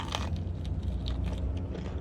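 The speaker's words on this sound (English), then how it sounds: "oh, you heard that crunch." Biting into a Wendy's chicken strip gives close, crisp crunching, several short bursts of crackling breading over a low chewing rumble.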